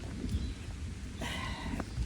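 Heavy rain during a severe thunderstorm on the Appalachian Trail, a dense steady hiss of rainfall with low rumbling beneath and a brief brighter burst partway through, no voices.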